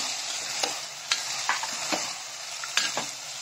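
Peas and potatoes coated in spices are stirred in a pressure cooker, producing a steady sizzle with repeated sharp scrapes and taps of the spoon against the metal, close up, with no talk.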